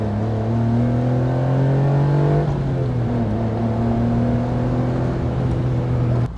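A 660 cc bike engine revs and holds a steady droning pitch that climbs, dips slightly, then settles, loud and close with no talk over it.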